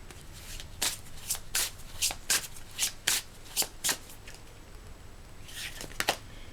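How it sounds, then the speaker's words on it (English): Tarot cards are shuffled and drawn at close range, with a quick run of crisp, riffling card flicks followed by a short quiet stretch and a few more flicks near the end. "Okay, let's get some more cards."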